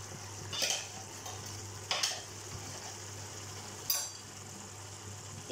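Broccoli potato curry fries softly in a pan under a steady low sizzle, with three short scraping stirs of a spoon spaced a couple of seconds apart, close and fairly quiet.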